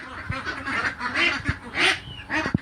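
Ducks on a duck farm quack and honk repeatedly at close range, loud overlapping calls in irregular bursts with a few sharp knocks between them.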